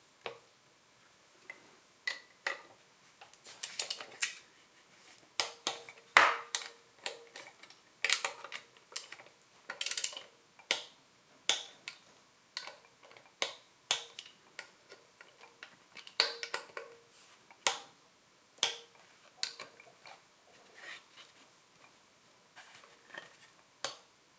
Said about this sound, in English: We put the bolts back in, and then we'll torque it down to 26 inch-pounds.